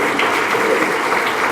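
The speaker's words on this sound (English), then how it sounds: "Go ahead, you can clap for him." An audience applauds at a regional crime-line dinner honoring a Top Cop award recipient, a steady, dense wash of clapping that holds evenly from start to finish with no voices over it.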